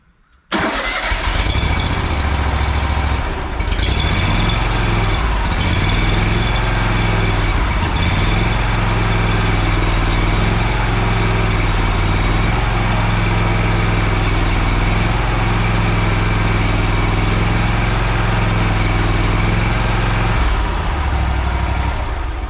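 A Kohler ECV650 engine on an Exmark Turf Tracer mower cranks and fires, then runs loud and close for about twenty seconds, its revs surging and wavering before it shuts off.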